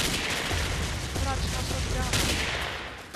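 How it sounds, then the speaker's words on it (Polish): Dense, continuous machine-gun fire in the Ace of Spades game, a rapid fusillade of shots sustained throughout with a loud, busy battle din and no clear pauses. "Dobra, zmieniam broń na maszynówę."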